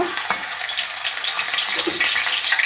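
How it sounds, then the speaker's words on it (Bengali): Dried shidol fish frying in a pan for a dry fish and pumpkin dish, giving a steady, close hiss of sizzling oil with faint watery crackle and no talk. "আমি প্রথমে শিদলটা ভেজে নেব।"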